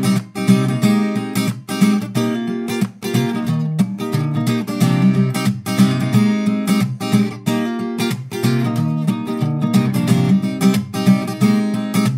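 The chorus and bridge of a song played on guitar, with continuous driving strummed chords and crisp percussive strokes, close and loud with no talking.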